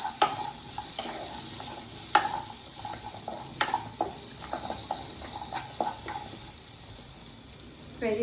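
Vegetables and masala for jowar methi handi sautéing in a pan, a steady close sizzle with repeated spoon stirs and scrapes tapping against the pot throughout.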